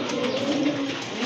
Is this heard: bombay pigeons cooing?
yes